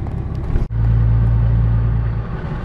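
A 4th gen truck engine drones steadily while driving, a loud low rumble with road noise and a short dropout early on.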